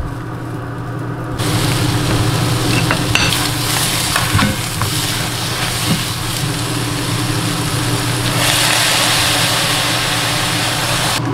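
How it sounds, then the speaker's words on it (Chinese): Sponge gourd (luffa) being stir-fried in a pan, with a steady, loud sizzle and scraping stirs over a constant low mechanical hum throughout. "再加入丝瓜，稍微拌炒一下就好了。"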